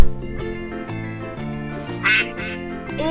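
Cartoon duck quacking over a cheerful backing tune with a steady bass pattern, one bright quack clearly rising in the middle of the short stretch.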